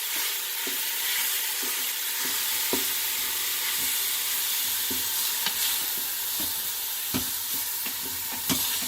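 Ground beef and sausage brown in an Instant Pot, with a constant close sizzle and regular sharp taps and scrapes as a utensil breaks up the meat.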